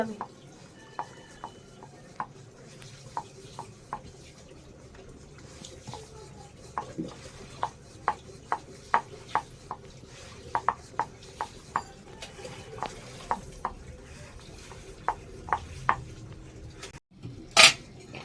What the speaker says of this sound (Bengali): আমি এখন বেলে নেব পরোটাগুলো হালকা করে বেলতে হবে